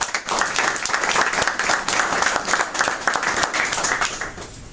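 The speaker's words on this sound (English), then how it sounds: "An applause for him." An audience applauds a panelist at a business magazine presentation in Miami Beach, a dense, steady burst of clapping from many hands lasting several seconds with no one speaking.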